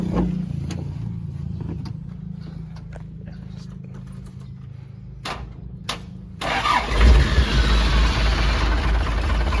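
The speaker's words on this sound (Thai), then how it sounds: "เดี๋ยวพามาฟังเสียงเครื่องกันนะว่าเครื่องเป็นยังไงบ้าง" An Isuzu NKR 110 hp truck engine idles as a steady low rumble with some clicks, then grows louder and rougher near the end, heard close and alone with no talk.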